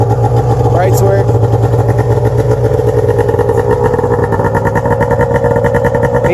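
A 1997 Arctic Cat EXT 580 EFI snowmobile engine runs loud and close, a steady buzzing idle with a faint rev near the start and a continuous even drone throughout.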